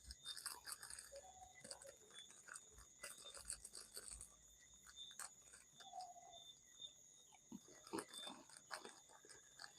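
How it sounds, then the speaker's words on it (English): Quiet, irregular crunching from someone eating crackers close by, coming in scattered bursts over a faint background hum. "Sorry if you may hear the crunching sound. I'm eating some crackers."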